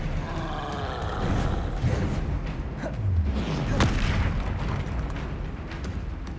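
Bombarda spell explosions in a Hogwarts Legacy battle: several deep booms and bursts go off among rumbling combat noise, at moderate loudness and fairly close.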